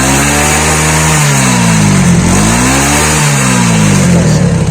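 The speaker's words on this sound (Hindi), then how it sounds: "हल्का रेस दीजिएगा" A motorcycle with a white-smoke problem idles loudly, then its engine is revved gently twice, the pitch rising and falling with each blip.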